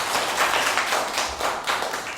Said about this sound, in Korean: 먼저 큰 박수로 환영해 주십시오